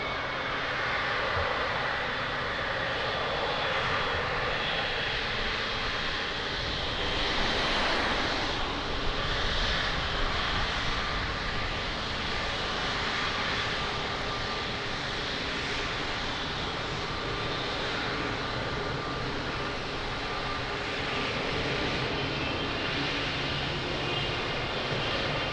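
Airliner taking off from runway 02 at Lisbon Airport, a loud, steady engine roar that holds throughout with a slight swell partway through, heard from a distance.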